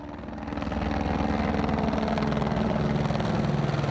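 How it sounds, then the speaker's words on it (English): A Border Patrol helicopter passes overhead near the US–Mexico border in El Paso, its steady rotor thump swelling in over the first second and then holding loud and constant. "That's Border Patrol. That is one of their helicopters."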